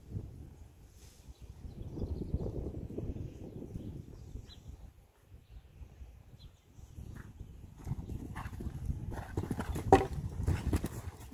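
Hooves of a ridden horse clip-clopping through a jumping session over ground rails and a small jump, steady uneven beats at moderate distance, with occasional faint birdsong in the background and no talking.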